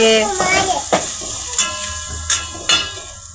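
Tomatoes, onions and chillies frying with garlic in a pan while being stirred, a soft sizzle under sharp spoon-on-pan clacks recurring every second or so, with a voice talking briefly at the start.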